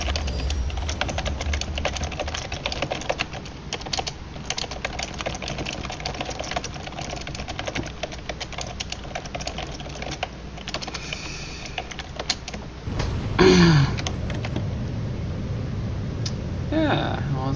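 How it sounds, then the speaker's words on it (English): Rapid clicking of computer keyboard typing runs nearly continuously at close range during an online multiplayer game session, with a brief bump of other noise partway through. "I'm gonna type to this guy."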